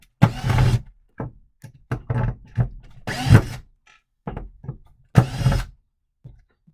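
Short screws are pulled out of a pedestal dinette table in a series of brief, close mechanical whirs and knocks, irregular and separated by silences.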